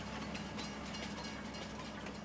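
A Farming Simulator 19 train rumbles along steadily at low volume, a continuous rolling noise with faint rhythmic clatter and no breaks or talk.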